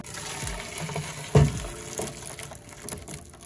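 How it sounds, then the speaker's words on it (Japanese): Water from boiled burdock root poured off into a strainer, a brief gushing splash near the middle over a low background of trickling and kitchen noise. "好みのね、硬さになりましたら水切りをします。"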